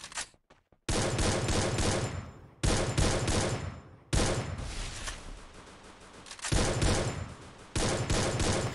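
Bursts of automatic gunfire ring out in a Counter-Strike ranked match, several loud rapid volleys separated by short pauses, each a dense rattle of shots.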